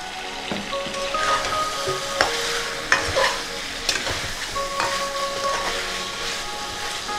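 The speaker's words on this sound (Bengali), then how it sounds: "আবারও কিছুক্ষণ কষাবো" Chicken sautéed with whole onions and a garlic bulb in a pan, a steady close sizzle with several sharp scraping strokes of the spatula and faint background tones.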